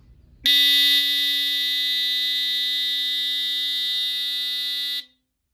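A shrill, continuous electronic alarm tone from a GE Home Sentry 8201-301 smoke detector under test blares loud and close for about four and a half seconds, then cuts off abruptly.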